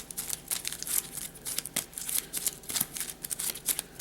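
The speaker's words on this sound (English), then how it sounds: "We'll put these with the primary and shuffle them up real good" A small deck of playing cards is shuffled for a tabletop war game, giving rapid papery riffles and flicks in quick bursts at close range.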